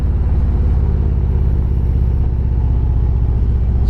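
New Harley-Davidson motorcycle cruising the Cherohala Skyway mountain road, a loud, close, continuous low engine rumble with steady throbbing pulses and wind noise throughout.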